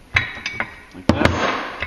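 Metallic clanks and clinks as a nut is broken loose on a clutch compression tool, a few sharp close knocks followed by a ringing ratchety scrape, loud and brief.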